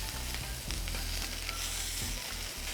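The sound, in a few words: steak searing in a pan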